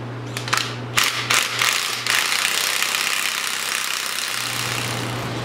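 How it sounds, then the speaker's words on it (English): A mini bike drive chain is broken to length with a chain tool, giving several sharp metallic clicks and ratcheting bursts early on, then a steady mechanical hum with a low tone underneath. "I'm going to go ahead and I'm going to break the chain right here"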